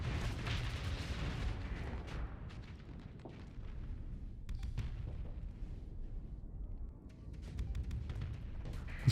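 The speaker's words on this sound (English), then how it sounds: "We'll just let the support guns kill all of these little drones." Support guns fire continuously in the space combat game Starsector, a dense rumbling barrage of booms and crackling bursts against small drones, with sharp impacts scattered throughout.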